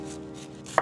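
A single close, crisp knife chop through thyme on a cutting board lands near the end, over a low steady background hum.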